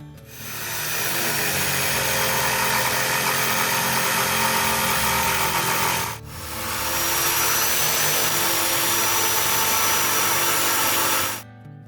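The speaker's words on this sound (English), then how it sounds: "a jigsaw." A jigsaw cuts through an old piece of scrap wood in two long, steady buzzing passes, each roughly six seconds, separated by a brief pause, loud and close with no talking.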